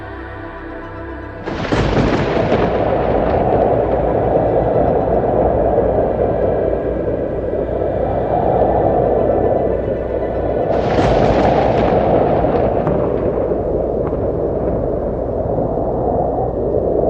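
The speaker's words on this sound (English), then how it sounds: "And then the storm reaches its peak." Thunderstorm with deep, heavy booming thunder: a low, rolling rumble swells after a quiet start, then a second loud crack-and-roll near the end, with no speech.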